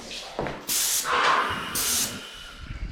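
Paint sprayer turned up for coating interior doors, hissing in bursts of loud broadband spray with short pauses between passes, close by and alone.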